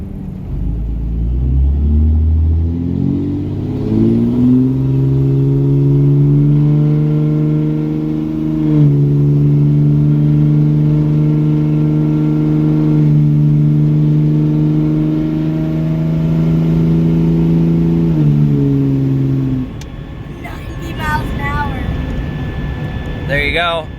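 Hotshot truck engine pulling while driving, rising from low rumble to a steady deep harmonic drone as it accelerates and holds speed, then dropping off near the end as other sounds come in.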